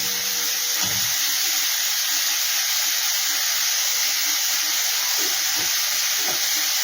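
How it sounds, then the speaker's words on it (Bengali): Grated carrot fries with cumin and ginger in a hot pan, a steady hissing sizzle throughout with a few faint stirring knocks, close and without talk. "এই গাজরটাও আমি সামান্য একটু ভাজা ভাজা করে নেব।"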